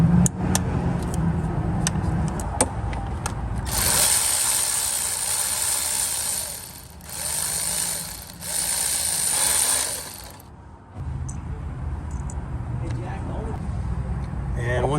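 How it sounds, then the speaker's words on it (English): Rapid ratcheting clicks of a 10mm socket wrench loosening an ignition coil bolt on a 2017 Subaru Outback, close and bright in bursts of several seconds with short pauses between them, and someone talks before and after. "you can take a 10mm socket and you can go in here and you can loosen the ignition coil"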